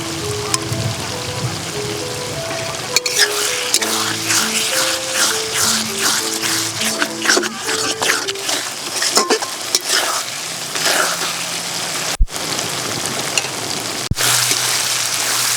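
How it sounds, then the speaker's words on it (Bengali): Ginger, cumin, garlic and dry red chili pastes are stir-fried in oil for a jackfruit and prawn curry, with constant spatula scraping and stirring over a busy sizzle, a few sharp knocks near the end, and background music throughout. "মশলাটা ভালো করে কষানো হয়ে গেছে"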